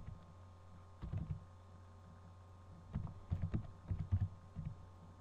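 Soft keystrokes tap on a computer keyboard in a few short irregular clusters, faint and close against a quiet background hum.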